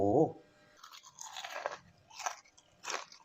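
Crunchy bites into crispy fried chicken coating in a KFC-style recipe, a close, dry crackling crunch repeated three or four times in short bursts, alone without talk.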